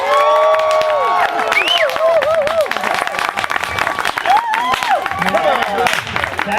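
A loud crowd cheers, shouts and claps, with children's high voices rising and falling in a noisy, continuous din.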